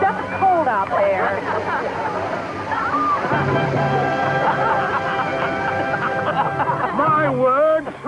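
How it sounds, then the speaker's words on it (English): Water from an automatic sprinkling system sprays and sloshes across a field in a steady wash, partly masked by voices talking over it throughout. "So I put in an automatic sprinkling system on my own."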